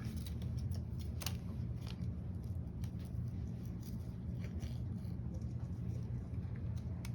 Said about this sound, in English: I'm not really moving my scissors as much as I'm moving the fabric.